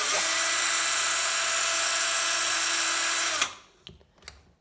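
A Ryobi SDS rotary hammer drill runs in hammer mode with a loud, steady, high-pitched whine and buzz for about three and a half seconds, then stops, followed by a few faint knocks.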